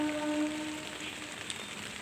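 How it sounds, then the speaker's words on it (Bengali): Light drizzle falling on a rooftop garden, a soft, even patter and hiss of raindrops that continues steadily and quietly throughout. "এই রিমঝিম বৃষ্টিতে ঝিমঝিম করে যে বৃষ্টি পড়ছে"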